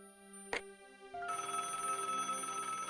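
A telephone rings in the point-and-click adventure game Broken Sword: The Shadow of the Templars, with a short sharp burst followed by a sustained electronic ring over a steady tonal background, moderately loud with no talk.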